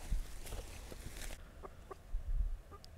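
Backyard garden chickens give a few soft, scattered clucks at moderate distance over low rumbling background noise.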